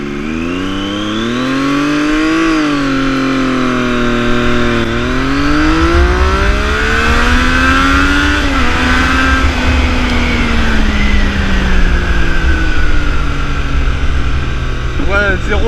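A Triumph Daytona 675 sport motorcycle launches in first gear and revs up hard, its loud engine howl rising in pitch, dipping at a gear change, then climbing again through further gears as speed builds.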